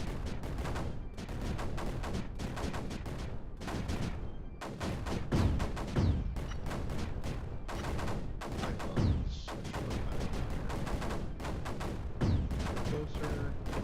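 Constant heavy cannon and mortar fire booms in dense, overlapping volleys in Creeper World 4, loud and continuous with scattered thumps throughout.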